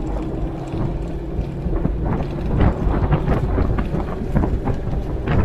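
Inside a Jeep TJ with narrow off-road tires and no lift at highway speed, loud buffeting wind roars against the microphone over a low rumbling drone of road and engine noise, surging and swelling throughout.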